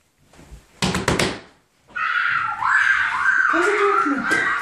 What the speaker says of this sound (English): Get in and shut the door.